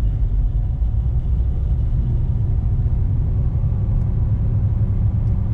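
Jeep XJ engine while driving with an AW4 automatic transmission, a loud steady low rumble with the engine easing off as the gas is released, heard alone with no talking.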